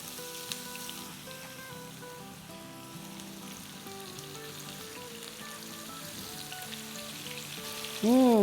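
Eggplant fries crackle in hot oil with a soft, steady sizzle. Quiet music plays underneath, and a louder burst comes at the end.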